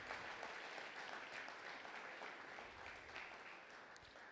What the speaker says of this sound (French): Acclame encore pour la gloire de Jésus